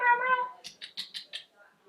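A house cat voices a quick run of short, bright meows, about five in a row, after a brief tonal cry at the start; close and fairly clear, with no talk over them.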